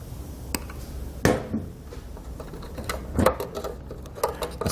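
Wire cutters snipping wire for a Roadmaster Diode 7-wire to 6-wire Flexo-Coil wiring kit, giving a few sharp, close clicks and snaps spaced out over quiet handling noise.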